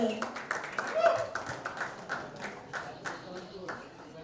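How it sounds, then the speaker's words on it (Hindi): Scattered, distinct claps welcome a film director on stage at a trailer launch event, irregular and moderately close, settling into a lighter patter with a voice faintly underneath. "जबरदस्त तालियों के बीच let's welcome mister Irshad Khan, the director of non stop Dhamaal"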